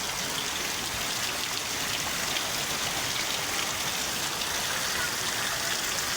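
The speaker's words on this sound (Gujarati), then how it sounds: "વરસાદ જોરદાર ચાલુ હોય" Heavy rain pours down in a dense, unbroken hiss, loud and steady throughout with no other sounds standing out.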